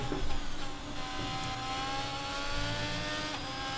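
A McLaren Formula 1 car in an F1 racing game comes up with a high, rising engine whine, gear-shifting tones climbing steadily over a dense rumble, loud and close for the whole stretch.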